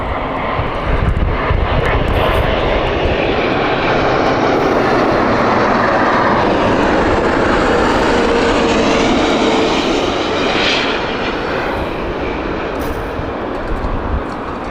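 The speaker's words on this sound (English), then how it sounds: "A350 of British Airways." A British Airways Airbus A350 roars steadily and loudly at Heathrow Airport on a sunny day, a continuous broadband jet engine rumble that holds close and strong throughout, with no talk.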